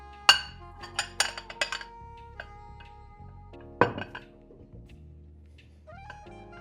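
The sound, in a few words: rice packed in a bowl and flipped onto a plate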